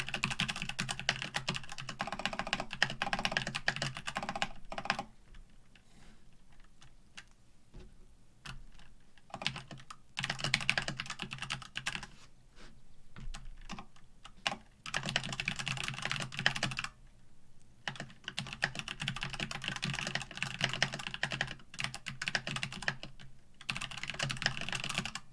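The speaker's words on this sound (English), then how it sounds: "it's actually a really good typing experience on the Keychron" Rapid typing on a Keychron mechanical keyboard, close and clear, with crisp key clacks in bursts separated by short pauses.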